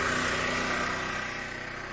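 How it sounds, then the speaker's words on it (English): A concrete saw runs steadily while cutting contraction joints in a freshly poured slab, a close, continuous engine drone with a high whine that eases slightly toward the end. "Just finishing up, getting all the sawing done."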